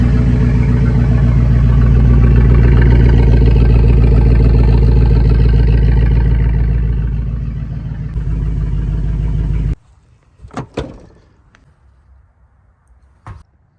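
A Jeep Grand Cherokee with the 4.7 engine and its exhaust missing runs very loud, a deep raw roar that fades and then cuts off abruptly, followed by a few scattered clunks.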